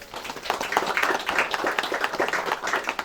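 A wedding gathering claps in steady, moderately loud applause, a fairly sparse patter of many hands continuing evenly throughout.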